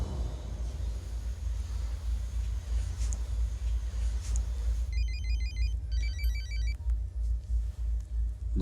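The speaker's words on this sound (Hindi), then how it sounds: "ऑल्विन, इसका फोन उठा" Mobile phone ringtone in a Hindi crime film, a repeating electronic melody that starts midway and plays in patterned bursts over a low rumbling background.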